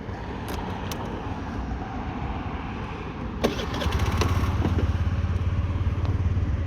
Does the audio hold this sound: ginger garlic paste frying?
no